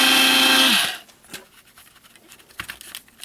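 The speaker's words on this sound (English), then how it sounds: "I'll grind it up for a few seconds" A Braun grinder whirs loudly through roasted pumpkin seeds for about a second and then spins down and stops, leaving faint scraping and tapping sounds.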